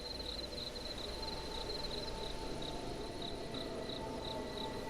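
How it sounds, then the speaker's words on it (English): Crickets chirp in the hunting game theHunter Classic, a steady high-pitched pulsing trill over a soft night ambience, with no talk. "I hear crickets."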